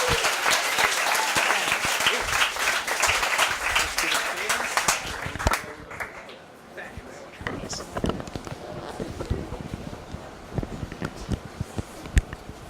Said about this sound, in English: So let's give, applause, I think.